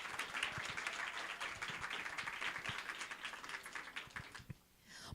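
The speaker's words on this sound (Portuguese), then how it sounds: "Uma salva de palmas." Sustained audience applause at a live lecture, many hands clapping steadily, which fades out abruptly near the end.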